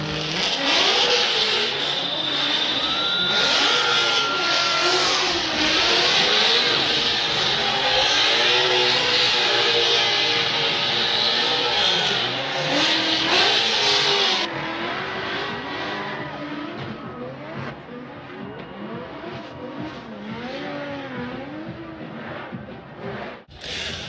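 Drift cars at the Motegi Racing Super Drift Challenge night event in Long Beach scream past with rising and falling engine revs, loud and sustained, easing off toward the end.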